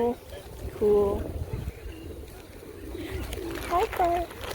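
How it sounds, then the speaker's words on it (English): Pigeons coo in low, soft bursts while feeding on seeds and grapes outdoors alongside crows and an Egyptian goose, the calls scattered and fairly close amid ambient noise. "I accidentally summoned a lot of pigeons and an Egyptian goose"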